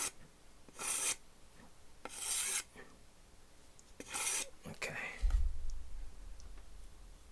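Knife edge rubbed against an abrasive to strip a heavy burr, heard as several short, faint rasping strokes at a steady pace, followed by a low handling thump near the end; no talking.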